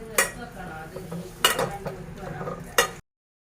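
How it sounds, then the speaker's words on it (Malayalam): A spoon stirs chicken curry with curry leaves in a metal pot, making three sharp scraping clinks against the pot over a soft sizzle, close by, before the sound cuts off. "എന്നിട്ട് നന്നായിട്ട് മിക്സ് ചെയ്യാം."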